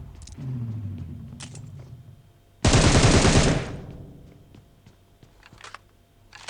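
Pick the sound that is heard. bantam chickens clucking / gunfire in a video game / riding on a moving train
gunfire in a video game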